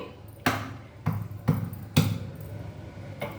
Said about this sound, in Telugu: జాజికాయ ఒక్క దెబ్బ వేస్తానండి